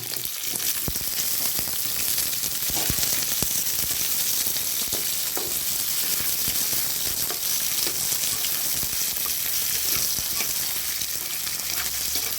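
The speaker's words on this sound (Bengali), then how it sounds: "পেঁয়াজ ভাজা হয়ে গেছে, এবার আমি আলুগুলো দিয়ে দেবো।" Potatoes and onions fry in oil in a pan with a continuous, even, close sizzle, broken by occasional stirring clatter and crackles. No talking.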